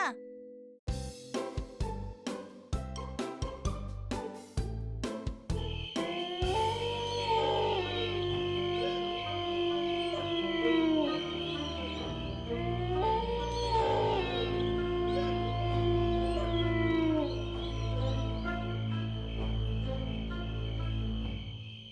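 After a run of sharp clicks, a dog lets out long wavering howls, rising and falling in two drawn-out bouts against a quiet low background.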